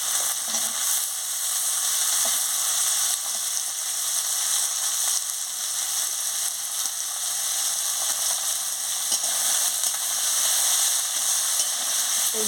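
Potatoes sizzle loudly and evenly in a spiced pan, a thick, unbroken frying hiss right up close, with occasional faint stirring taps and no speech.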